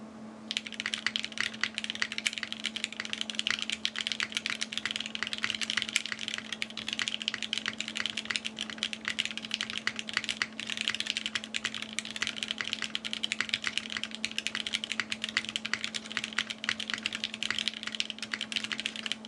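Steady, rapid clacking of keys on a VERTEX Angle mechanical keyboard, continuing evenly for the whole stretch with no voices over it, against a constant low room hum.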